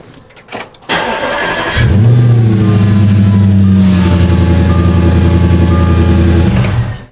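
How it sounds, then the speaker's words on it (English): A 2011 Audi S5 starts up close by: a brief crank, then the engine catches with a loud flare and settles into a strong, steady idle with a deep, even hum. "and to do that I'm going to turn on the car."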